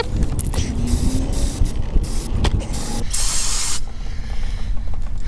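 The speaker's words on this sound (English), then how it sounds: "I got some brake parts cleaner, and I just want to spray all of this before I do anything else" Brake parts cleaner sprayed from an aerosol can onto a power steering pressure switch and its connector on a Mercury Grand Marquis or Crown Victoria, heard as close, steady hissing bursts with mechanical handling clatter between them.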